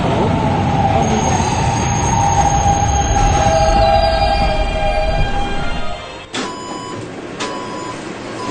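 A West Baton bound K train, a PST-3R car, rumbles steadily along the rails with thin metallic squeals riding over the noise, then a sharp clunk and a few short bursts as it slows.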